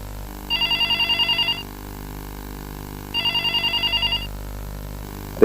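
Telephone ringing indoors in a home, two loud electronic bursts of rapid trilling rings separated by a short pause, heard alone.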